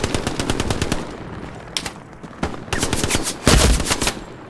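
Machine gun fire in the World War II shooter game Hell Let Loose, with loud rapid bursts and separate shots rattling across the clip and a heavier, closer volley near the end.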